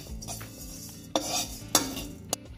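Spices and salt stir-roasted in a pan for mushroom ghee roast, with steady scraping from a spoon and three sharp metallic clinks against the pan, close up and with no talk.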